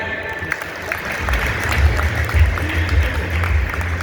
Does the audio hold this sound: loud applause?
yes